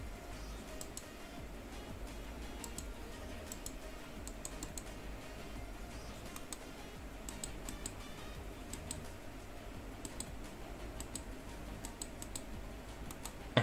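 Rapid clicking from a Signo E-Sport GM-962 Langer RGB macro gaming mouse, with light, close, irregular ticks coming in bursts over a quiet background.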